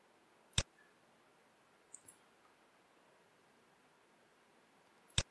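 Computer mouse clicks in a quiet room: a few crisp, isolated clicks spaced seconds apart, close and clear against faint background hiss, with no talking.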